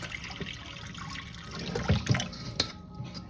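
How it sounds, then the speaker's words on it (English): Hot water running from a tap to refill a container of raw sea moss, a continuous close splashing flow with a few louder knocks and bumps near the end. "fill this back up with water to cover"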